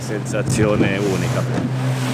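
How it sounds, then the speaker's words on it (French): A small open boat rides ocean waves off a forested island in the Gulf of Guinea. A low, steady engine drone and rushing water and wind run throughout, with a voice speaking over them. "Être sur cette petite barque au milieu de l'océan et des vagues"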